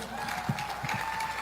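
Crowd applause and some cheering at an evening colloquium with live music, a thin, diffuse patter of clapping heard from some distance, steady throughout and fairly soft.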